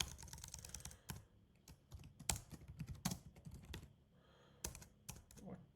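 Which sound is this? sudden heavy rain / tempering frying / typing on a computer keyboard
typing on a computer keyboard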